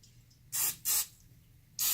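Three short bursts of cooking oil spray onto flour-coated food, two close together and one after a pause, each a bright hiss against a quiet background.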